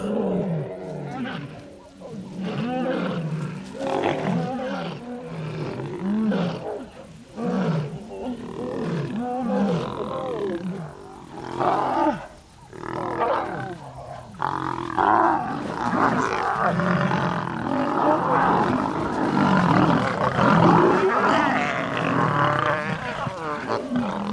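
Lions roar and growl during a pride fight in Ruaha, a series of deep, throaty roars and snarling grunts in bursts, loud and close, building into overlapping growls from several animals.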